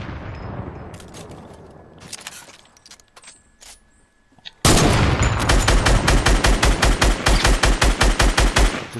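Rapid gunfire in Fortnite, a few scattered shots first, then a loud, steady run of evenly spaced automatic rounds close by that continues to the end.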